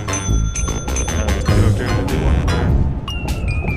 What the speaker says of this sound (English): So if I just ring the bell more than once,